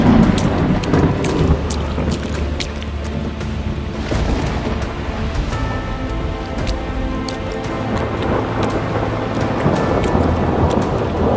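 Heavy rain pours steadily with rolling thunder rumbling through it, a continuous storm wash with no voices.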